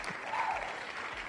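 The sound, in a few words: crowd cheering sound effect from a wheel-spinning game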